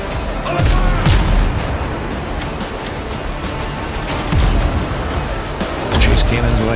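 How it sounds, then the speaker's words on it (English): Ship cannons boom in the Windrose pirate video game, three heavy blasts spaced a couple of seconds apart over a churning sea-battle din, with voices talking in between. "Chase cannons while you can, buddy."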